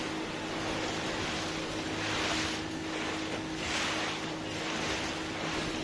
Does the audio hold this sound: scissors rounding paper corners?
no